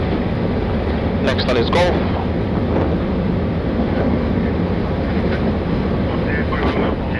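A steady, loud roar from a Fiji Airways Airbus A330-200 decelerating on the runway with reverse thrust after landing, heard from the cockpit, with crew voices and callouts over the noise.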